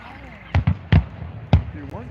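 Fireworks show in Mt Airy, Maryland: several sharp booming bursts, two close together then another pair about a second apart, heard at a distance over steady background crowd murmur and faint voices.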